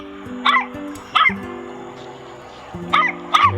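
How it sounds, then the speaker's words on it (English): A pet dog named Muffy gives several sharp barks and yips in short bursts, two near the start and two near the end, fairly close, over a quiet indoor background. "There's the dog"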